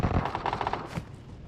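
Rapid automatic gunfire from the mobile battle-royale game PUBG Mobile, with fast repeated shots in close bursts that thin out into scattered, softer reports.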